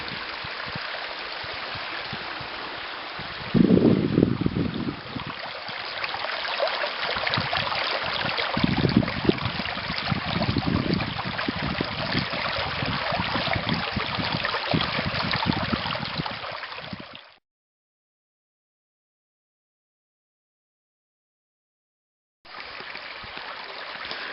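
A stream carrying snowmelt down from snow-packed highlands on the east side rushes steadily nearby, a broad even wash of flowing water with a few louder surges before it cuts off into silence and then resumes.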